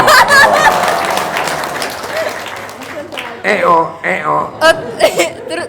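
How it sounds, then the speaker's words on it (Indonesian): Applause and chuckling from an audience at a talk by the head of a Bogor orphan prayer house, bursts of clapping mixed with laughter under a speaking voice, growing choppier toward the end. "Tepuk tangan dong."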